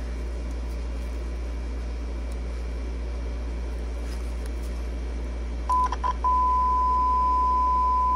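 A Philco 37-600 radio speaker with its humbucking coil lead reversed gives off a loud, steady low hum throughout, joined near the end by a few short beeps and then a sustained high tone.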